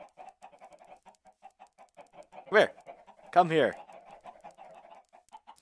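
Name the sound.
chickens clucking in the video game Minecraft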